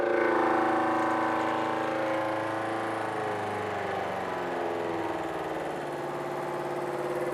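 A milling machine takes a slow, shallow 50-thousandths cut on a metal part for a lamination stack welding fixture, producing a steady, fairly loud tonal whine with a rough grinding texture that wavers slightly in pitch and runs alone without talk.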